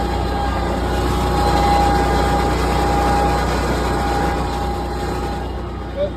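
A 2024 Kubota Z781i zero-turn mower engine runs steadily while driving around, a loud continuous drone with a faint whine, close by and without talk.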